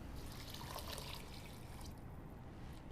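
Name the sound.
water poured into pot with rice and lentils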